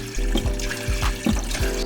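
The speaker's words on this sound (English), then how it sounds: "the water goes in and then it seeps to the water container at the bottom" Water pours into an ADJ Entour Ice machine and trickles down into its bottom water container, a steady close splashing and dribbling with no talking.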